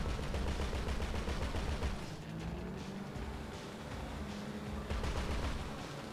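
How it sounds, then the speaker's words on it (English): Bursts of rapid machine gun fire in a heist video game, heard with a steady engine rumble underneath, moderately loud and continuous across the clip. "I can hear your fucking machine gun from here."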